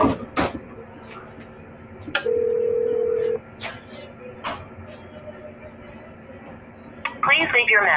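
A phone places a call: a handful of sharp tones and clicks, a steady dial-style beep held for about a second, then more scattered clicks and a brief warbling burst at the end, with no clear speech.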